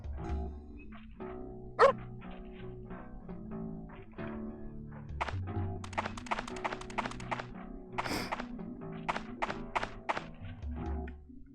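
In the video game Parasite Eve 2, a dog barks in a run of sharp, repeated barks over game music and ambient sounds, with a heavy thunk early on.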